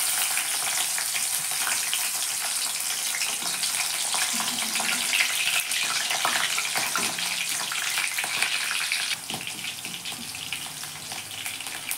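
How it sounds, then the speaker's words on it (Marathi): Chillies fry in hot oil with a steady, dense sizzle that runs unbroken and fairly loud, easing slightly in the last few seconds; no voices are heard. "आता या तेलामध्ये मिरच्या तळून घेते मी."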